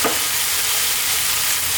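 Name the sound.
lamb tibs frying with spiced butter (kibe)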